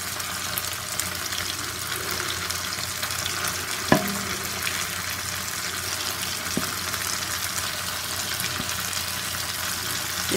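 Sliced plantain frying in hot oil gives a steady, close sizzle and crackle throughout, with a single brief clink of a utensil partway through and no voices.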